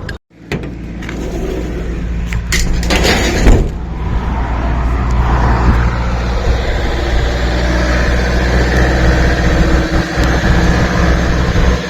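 A truck drives along the road, its engine a loud, steady low drone that settles in after a few clunks and a brief rush of noise at the start.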